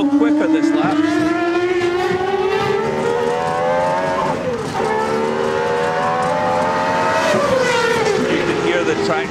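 Gordon Murray T.33 Spider sports car lapping at Goodwood, its engine note climbing steadily through the revs with audible gear changes, loud and close from inside the cabin, continuous throughout.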